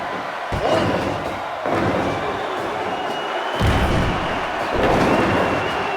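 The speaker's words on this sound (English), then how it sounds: "Elijah body slams Dakari" Wrestling match body slam: repeated heavy thuds of a wrestler slammed onto the mat, about four booming impacts spaced a second or more apart over steady crowd noise in an arena.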